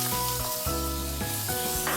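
Sliced onion sizzling in hot oil with mustard seeds, cumin and roasted gram, a loud, close, continuous frying crackle and hiss that runs steadily throughout with no talking.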